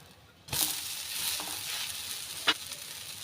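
Ragi dosa frying in sesame oil on a pan. A close, soft sizzle starts abruptly after a brief quiet moment and holds steady, with one sharp crackle or scrape partway through.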